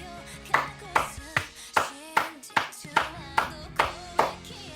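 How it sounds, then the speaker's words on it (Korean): Hand claps ring out one at a time in a slow, even rhythm, about ten close, sharp claps spaced roughly half a second apart over a soft background. "내 박수 세례에 만족하나?"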